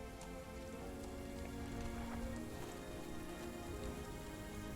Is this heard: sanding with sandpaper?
no